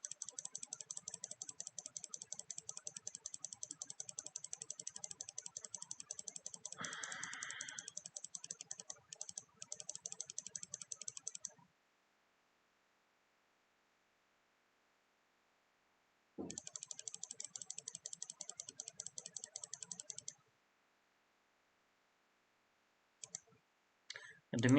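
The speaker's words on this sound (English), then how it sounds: "Enjoy the mouse clicking." A computer mouse clicks in long, rapid, dense runs, close and crisp, broken by stretches of silence and a few isolated clicks, with a faint voice at moments.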